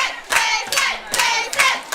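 Wrestling arena crowd at a live AMP Wrestling benefit show, with bursts of cheering and clapping that swell in three waves over a steady crowd roar.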